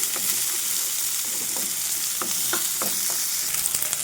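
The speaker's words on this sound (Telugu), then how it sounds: "చూడండి, వీటిని కూడా అటు ఇటు తిప్పుకుంటూ చక్కగా ఫ్రై చేసుకోవాలి" Chopped garlic and seasonings are stir-fried in a pan for a curry of amaranth and fenugreek leaves, giving a constant close sizzle broken by a handful of distinct spatula scrapes and clinks.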